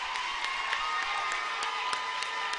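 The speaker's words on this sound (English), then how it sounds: "As this Mingo Central crowd is getting into it" A high school basketball crowd cheers for Mingo Central in a gym, with steady loud roaring, clapping and whoops sustained throughout.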